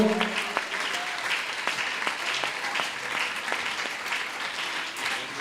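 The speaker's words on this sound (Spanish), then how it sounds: "Dele ese aplauso al Señor." Applause from a church congregation, steady dense clapping that continues evenly throughout, moderately loud and without speech.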